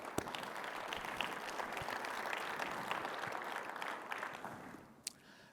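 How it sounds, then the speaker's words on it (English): An audience at an Iowa biofuels industry gathering gives a round of applause for supporters, sustained crowd clapping heard from a distance and fairly faint, tapering off near the end. "let's give them a round of applause"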